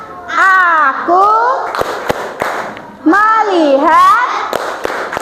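Children chant a rhythmic clapping routine in a classroom, singing voices rising and falling in unison, punctuated by a few sharp, sudden claps between the sung phrases.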